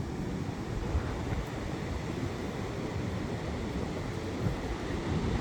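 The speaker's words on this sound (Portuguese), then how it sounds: "Agitadinha o mar, né?" Rough sea surf rolling onto an Indonesian beach, a continuous broad wash of breaking waves mixed with wind buffeting the microphone, fairly quiet and without talking.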